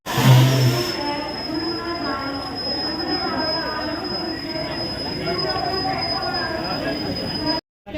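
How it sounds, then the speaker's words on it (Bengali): A passenger train pulls out of Howrah station, its steady rumbling roll and a long high wheel squeal running for several seconds, loud and close, before cutting off abruptly near the end. "আমাদের ট্রেনটা ছেড়ে দিয়েছে"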